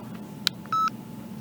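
A Sony ICD-BX140 digital voice recorder gives a quiet electronic beep as its play button is pressed, a faint click followed by one short, clean tone against a low hum.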